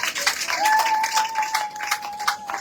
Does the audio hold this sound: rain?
no